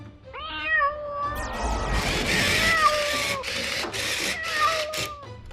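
Cartoon cat meows repeatedly, high up and out of reach, in a Robocar Poli rescue episode; drawn-out wavering cries over busy background effects, moderately loud.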